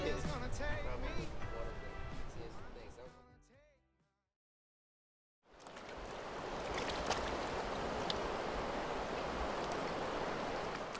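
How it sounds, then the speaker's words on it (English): Skagit River water rushing past a campsite, a steady broadband wash that rises after a brief silence and holds at an even level, preceded by a stretch of music. "we woke to the pleasant sound of the flowing river, which was right next to our campsite"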